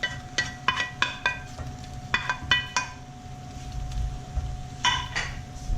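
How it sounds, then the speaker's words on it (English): Chopped red bell peppers go into a pot of nearly dry reduced mirepoix, with sharp metallic clinks of a spoon against the pot in quick clusters over a low sizzle. "We're going to add the peppers."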